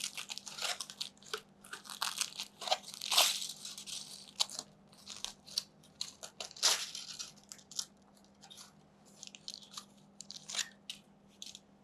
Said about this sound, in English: I'm just going to pull the foil out. Okay, and then I'm going to open up the foil.